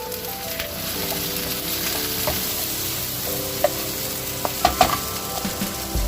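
Chopped tomato and sliced chilies frying with onions for a chicken saag, a continuous close sizzle with occasional sharp clicks and taps of a utensil against the pan.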